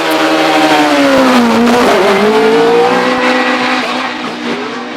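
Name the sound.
4 litre Gould Judd V8 hillclimb race car accelerating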